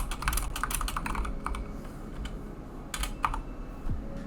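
Clicky keystrokes on a computer keyboard come in quick irregular bursts, then a pause, then a few more presses, close and moderately loud with no voices.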